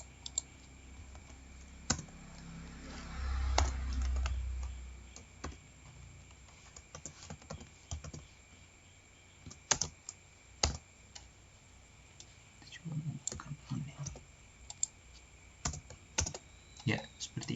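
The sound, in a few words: typing code on a computer keyboard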